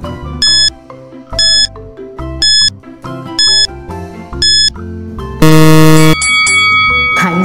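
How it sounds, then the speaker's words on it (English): A quiz countdown timer plays loud repeated electronic beeps in a steady rhythm, then ends on a long, harsh buzzer tone followed by bright chiming notes. "Timer starts now."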